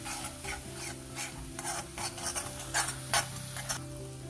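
Roasted gram flour being stirred in a cooking pan for aloo sabji, a soft continuous scraping and rubbing of a spoon with a faint sizzle and a few louder strokes, no voices.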